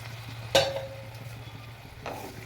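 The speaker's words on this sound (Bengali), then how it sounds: "ভালো করে নেড়ে ছেড়ে নেবো।" A spoon scrapes and knocks once loudly against a pan of thin mixed vegetable curry, then a softer stroke follows, over a steady low hum.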